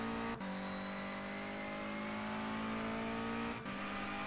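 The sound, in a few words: race car engine revving in the video game rFactor 2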